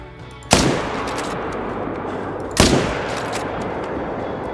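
Two loud rifle shots from the hunting video game Call of the Wild, a couple of seconds apart, each sharp crack followed by a long rolling echo.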